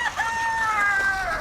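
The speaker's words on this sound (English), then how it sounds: "I just saw a chicken fly out and land in the duck pond" A chicken on a farm near a duck pond gives a drawn-out, tonal call, close and clear over faint outdoor ambience, with no talking.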